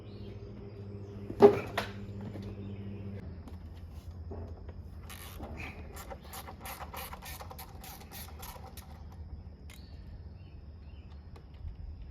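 Ratchet working rocker arm bolts loose on a Dodge Durango R/T engine: a loud creak near the start, then a fast run of clicking pawl strokes in the middle, with quieter mechanical handling around it and no talk.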